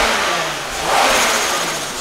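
A budget turbocharged car engine revs on a dynamometer, a loud, close mechanical roar that rises in pitch, peaks briefly and eases back, with no voices.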